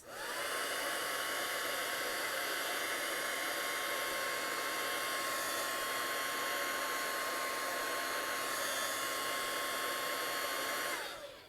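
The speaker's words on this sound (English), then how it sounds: "So I'm going to give it a zap with my heat tool." A heat gun drying ink on a card, a loud, steady blowing roar with a constant whine that holds for about eleven seconds, then cuts off.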